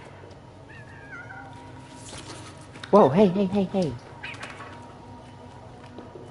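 A cat meows several times in a short, loud, wavering run, close by, with a voice calling out just before and over it and faint bird-like chirps earlier in the background.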